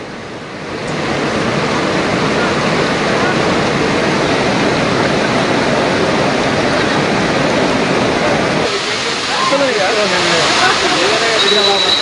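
Steady, loud roar of the Gayatri waterfall at Gundivada near Ichoda in Adilabad, a continuous broad rush of falling water throughout, with a voice speaking over it in the latter part.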